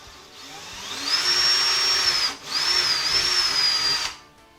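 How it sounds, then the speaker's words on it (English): A power drill bores a hole straight through a wall cabinet during installation, whining loudly in two sustained bursts separated by a brief pause. "we'll go ahead and drill a screw, a hole straight through"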